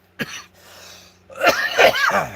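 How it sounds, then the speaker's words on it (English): A sharp cough followed by a short pause, then a burst of three harsh, throaty coughs close up. "We're just out here coughing together."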